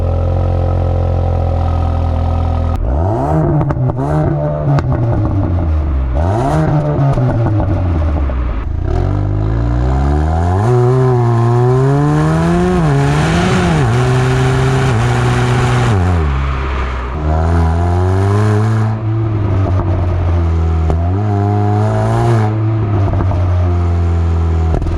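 A 2021 Ford Focus ST automatic hot hatch accelerates with its loud exhaust droning steadily throughout, the engine note climbing repeatedly and dropping back at each gear change, close and alone with no talking.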